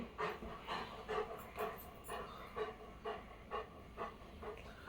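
A dog pants rapidly and steadily nearby, short rhythmic breaths repeating about twice per second without pause.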